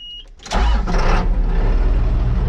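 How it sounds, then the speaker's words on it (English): A tractor engine cranks briefly, then fires and catches, settling into a loud, close, steady idle that runs on alone. "we're gonna start the tractor up"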